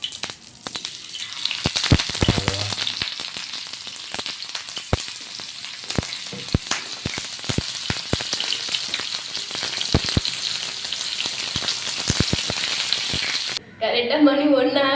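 Fish fries on a bed of curry leaves in a pan with a loud, continuous sizzle broken by frequent sharp crackles and oil pops, steady from start to finish.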